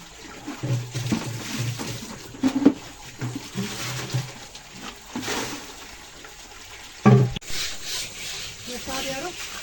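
Wet cooking pots are scrubbed with a brush in a village setting. Intermittent rough rubbing and scraping strokes sound near and moderately loud, broken by occasional knocks and the trickle of water.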